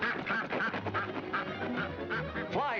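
A cartoon duck in a 1940 Looney Tunes short quacks repeatedly in a rapid, nasal series, joined by a few other fowl honks amid a busy soundtrack.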